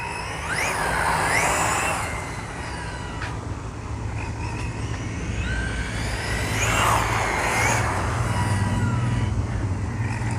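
A CEN RC rally car pushes through deep grass, its electric motor whining up and down in repeated surges over a steady rustling rumble, close by and continuous.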